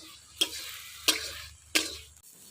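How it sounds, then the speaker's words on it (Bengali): Leafy greens (shak) fried in a pan on an outdoor clay stove, with three distinct scraping stirs against a quiet, low sizzle, and no talking. "এই দেখেন শাকটা এত সুন্দর ভাজা হয়েছে"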